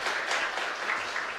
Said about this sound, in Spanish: Fuerte aplauso para nuestra comunidad